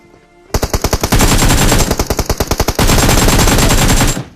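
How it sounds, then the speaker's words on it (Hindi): Enemy automatic gunfire in the mobile battle royale game BGMI rattles out in loud rapid bursts, close and sustained, broken by short pauses, with no speech over it. "यहाँ पे आप लोग को गन साउंड आ ही गए होंगे भैया सामने की तरफ से"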